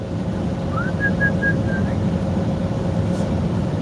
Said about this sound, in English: You're whistling for him?